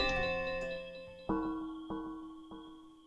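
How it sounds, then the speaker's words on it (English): Bell chime from the Fields of Mistria video game, a ringing tone followed by three evenly spaced softer strikes, each decaying slowly, clear and alone. "give me the bell sound"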